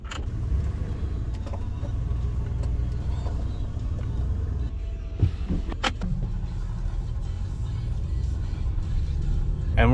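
A truck rolls along a road with a constant low engine and road rumble, close and loud inside the cab, and brief creaks and knocks near the middle.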